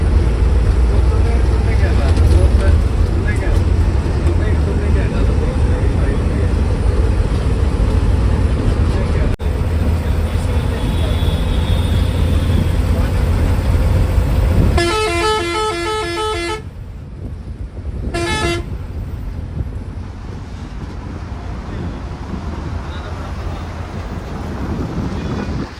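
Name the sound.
heavy Delhi road traffic heard from a bus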